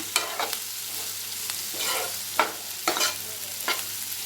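Fried bitter gourd is tossed into sautéing onions in a pan over medium flame, giving a soft continuous sizzle broken by several distinct scraping stirs.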